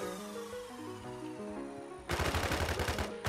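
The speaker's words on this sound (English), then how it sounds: "Push. Shoot the Sega" Sudden burst of rapid automatic gunfire in the online shooter game Infestation, a quick string of sharp close shots following a stretch of game music and ambience.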